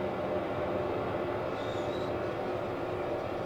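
A London Underground tube train rumbles steadily and loudly throughout, a dense continuous roar of carriage and track noise with a faint brief high whine midway.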